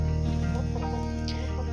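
A broody hen sitting on her nest gives low, continuous clucking and grumbling close by, steady throughout against a constant background hum.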